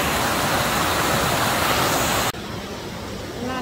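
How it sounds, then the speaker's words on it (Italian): Water pours steadily at the Capelli di Venere waterfalls, a loud broadband rush that cuts off abruptly partway through, after which a quieter, thinner water sound continues. "Guardate là, l'acqua che scorre."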